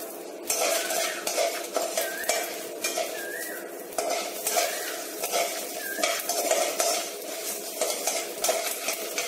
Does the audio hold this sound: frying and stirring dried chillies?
yes